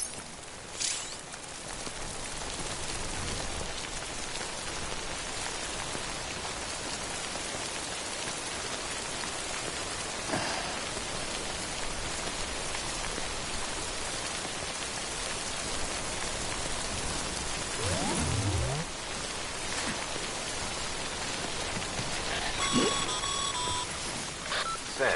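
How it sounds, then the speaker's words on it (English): Steady, loud rain pours in the video game Death Stranding, a dense unbroken hiss and patter throughout, with a few short electronic beeps toward the end. "Don't stay out in the rain any longer than you have to."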